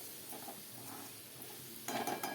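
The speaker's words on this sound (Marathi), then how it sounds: "पुन्हा एकदा व्यवस्थित कळसून घ्यायची आहे" Potato sabzi is stirred in a pan, a soft scraping of a spoon against the metal over a faint sizzle, ending in a brief louder clatter of utensils.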